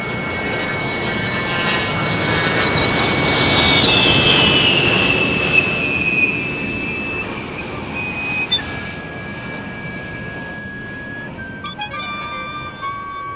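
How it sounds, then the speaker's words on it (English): Loud, sustained high-pitched whine of military jet aircraft engines, swelling for a few seconds and then holding steady with piercing tonal lines and a broad roar beneath, with no talking. "It's such a high-pitched whine to these engines."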